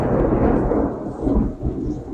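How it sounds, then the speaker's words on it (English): A crack of thunder from a North Carolina storm booms loud and close, a broad rumbling roar that swells, dips and swells again, with rain faintly hissing beneath. "I'm sure you guys heard that crack of thunder"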